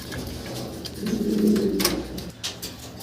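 Soft, low cooing of pigeons nearby, a rolling murmur swelling in the middle, with a few light rustles and clicks around it.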